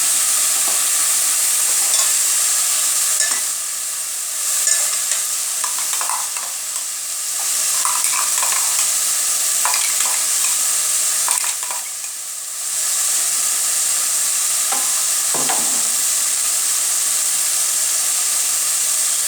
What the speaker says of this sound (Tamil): இஞ்சி பூண்டு பேஸ்ட் போட்டு வதக்கணும்